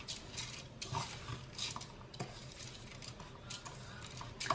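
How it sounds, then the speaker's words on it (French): A spoon stirs a fermented wheat couscous mixture in a bowl, soft repeated scrapes and light clinks against the sides, quiet and close. "On mélange."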